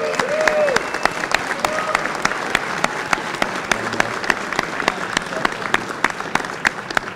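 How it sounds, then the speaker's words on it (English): Steady applause from an outdoor crowd at a bail reform rally on Capitol steps, greeting a county sheriff, with dense, even clapping throughout and a few sharp individual claps standing out. "Give him a round of applause, please."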